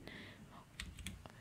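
A Ctrl+D shortcut is pressed on a computer keyboard, giving a few faint, quick key clicks in a quiet room.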